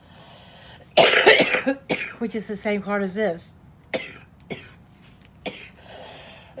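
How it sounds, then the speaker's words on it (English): Several harsh coughs burst out in a row, close and loud, after which a person talks, with a few more coughs breaking in. "I apologize about this coughing."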